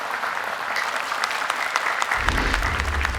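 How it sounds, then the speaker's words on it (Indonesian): An audience at the Hafiz Indonesia 2020 Quran memorization competition claps for a contestant in a short, dense burst of applause that swells slightly toward the end. "Boleh tepuk tangan lebih meriah lagi untuk Ica"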